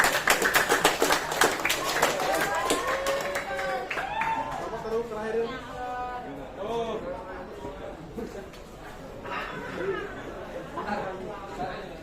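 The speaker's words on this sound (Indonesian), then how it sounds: "tepuk tangan buat terakhir" A classroom group claps briefly in a burst at the start, then the clapping fades as voices and chatter take over.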